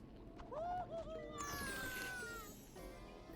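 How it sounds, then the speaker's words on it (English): Cat meowing nearby, a couple of rising drawn-out meows heard faintly and close, mixed with a brief noisy rustle in the middle. "Stop meowing at me!"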